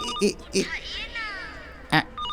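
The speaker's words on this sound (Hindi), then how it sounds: "ये रिंगटोन नहीं है आंटी, अलार्म है" A phone alarm's electronic ringing tone repeats in short bursts with sweeping chirps between them, loud and close.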